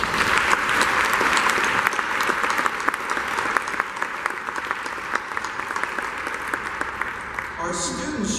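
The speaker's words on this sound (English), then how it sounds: "Please give them a round of applause." An audience applauds faculty, staff and administration at a Jacksonville State University gathering marking one year after a disaster, with steady, dense clapping from a large crowd lasting several seconds before it fades and a voice begins near the end.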